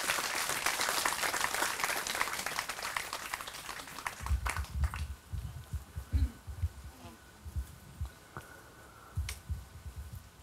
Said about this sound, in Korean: 신부님께 많은 박수를 보내주시면 고맙겠습니다.